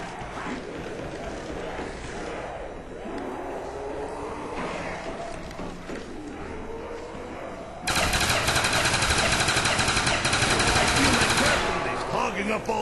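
Pistols firing in the Call of Duty zombies map Ascension, with dense, loud, rapid gunfire that grows heavier and continuous in the second half, under game noise and talk.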